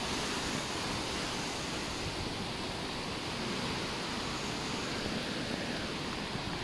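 Strong wind sweeping across a hilltop farm field during a typhoon, a dense, continuous roar buffeting the microphone at a steady loud level with no voices.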